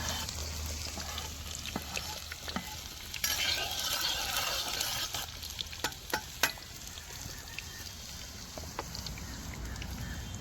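Cumin seeds crackle and sizzle in hot oil for a tadka, a steady frying hiss with scattered pops and a stirring spoon scraping the pan, close and fairly quiet in a home kitchen.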